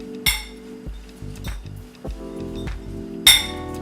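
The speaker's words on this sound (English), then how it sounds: "I'm going to give this a nice toss just to get all of the arugula coated." Arugula salad tossed in a glass bowl with utensils, giving a series of sharp clinks and taps against the glass, several strong strikes spaced irregularly with softer rustling scrapes between, close and fairly loud.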